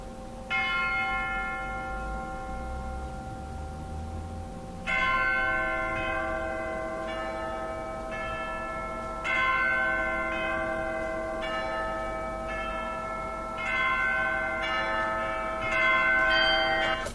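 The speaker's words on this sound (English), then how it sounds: "So it starts with single bells, and then it becomes more intense and intense" Church-like bells ring in a music track, single strokes with sustained harmonic tones at first, then denser layered peals building from about five seconds, loud and steady with no voices.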